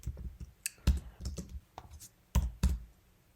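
Keys clack on a computer keyboard as a terminal command is typed, a quick irregular run of sharp, close clicks with short pauses between bursts.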